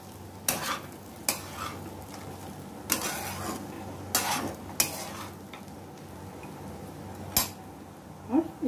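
A spoon stirs and scrapes poha in a pan after lemon juice goes in, with irregular clinks and scraping strokes against the metal over a soft background hiss.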